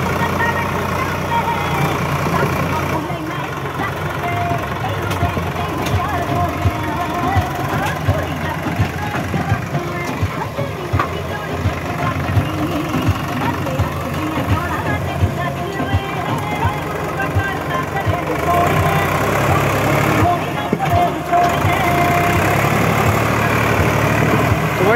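Two 744 XT tractors pulling against each other in a contest: loud, dense, continuous engine rumble that holds steady throughout, with voices mixed in.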